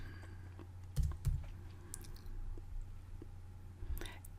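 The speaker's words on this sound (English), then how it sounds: "We want to type the word hello" A few quiet computer keyboard keystrokes, two close clicks then a pause and one more near the end, over a low room hum.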